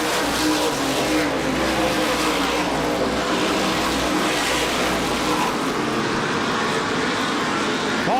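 Race cars at the 2005 MRS Star 100 stream past on the track, a loud, dense engine roar with whining revs that swells and holds steadily, with a steady low rumble beneath.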